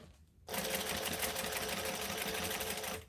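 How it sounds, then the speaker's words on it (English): A sewing machine stitches steadily around several layers of fabric and zipper, a continuous fast whirring hum that starts abruptly and runs without pause, close and fairly loud. "So I'm now just stitching around all of it."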